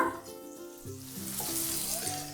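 Onions frying in a pan with turmeric and salt, a soft steady sizzle with stirring scrapes at close range, fairly quiet and without speech.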